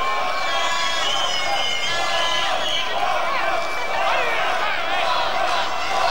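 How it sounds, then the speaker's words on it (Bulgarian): Home crowd at a handball match between HK Lokomotiv Varna and Kras Volendam, a dense roar of cheering with whistles and whoops held at steady loudness throughout, commentator-free and continuous. "Чувате подкрепата на публиката."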